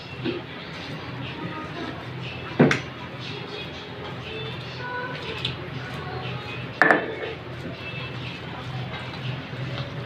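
Chepa shutki dried fish mash is mixed with raw onion in a bowl, mostly soft and quiet, with two distinct clinks of a utensil against the bowl several seconds apart.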